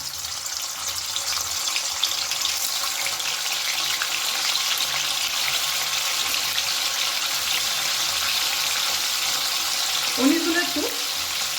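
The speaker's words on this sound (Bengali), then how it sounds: "গরম তেলের মধ্যে আমি পনিরগুলো দিয়ে দিচ্ছি" Paneer pieces frying in hot white oil in a kadai, giving a steady, even sizzle that continues throughout, with a brief clatter near the end.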